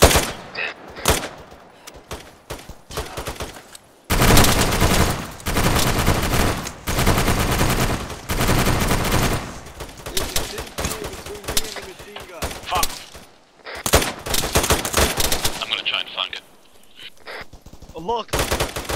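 Sustained machine gun fire from an enemy bunker in a first-person shooter video game, loud, dense bursts rattling almost continuously with brief pauses, while players shout to each other over the shooting.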